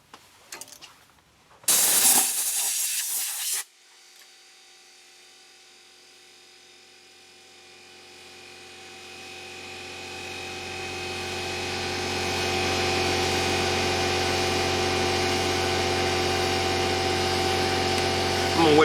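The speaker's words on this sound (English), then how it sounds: "I'm gonna wait just for a second for that air compressor to die down" An air compressor in a workshop where shaving brushes are being made starts quietly and builds into a steady, loud, droning hum after a brief burst of harsh noise at the start, with no talking over it.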